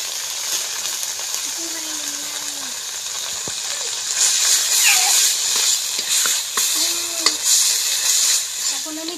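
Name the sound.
mustard paste frying in a pan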